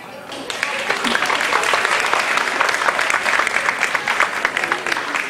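An audience at a festival breaks into applause welcoming a shy girl to the stage, the clapping swelling quickly and holding steady and lively, with crowd murmur underneath.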